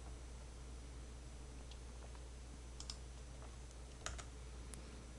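Computer keyboard keys pressed during accounting software data entry, scattered soft clicks with a couple of sharper taps, fairly quiet over a steady background hiss, no talk.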